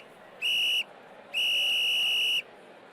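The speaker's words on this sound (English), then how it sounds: "I have this whistle sound when we score." A sharp, clear video game whistle blows twice, first a short blast and then a longer one, over a faint background hum.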